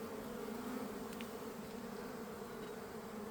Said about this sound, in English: look how many bees are in here